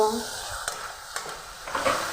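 Spices loosened with a little water being stir-fried in a pan for a dried-fish and taro-stolon dish, a low sizzle broken by a few sharp spatula scrapes against the metal, with a voice briefly audible.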